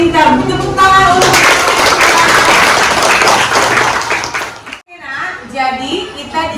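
A classroom of children claps together in a loud, steady burst lasting about four seconds, stopping abruptly before young voices chatter again.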